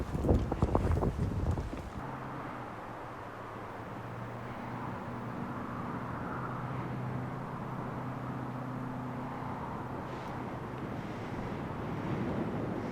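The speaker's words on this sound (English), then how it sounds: "Lots of wind out here when you're in the open like this." Wind blows steadily across an open disc golf course, a continuous low rumble on the microphone with a few thumps at the start.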